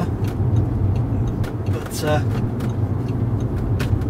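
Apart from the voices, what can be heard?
Audi S3 car driving on a test drive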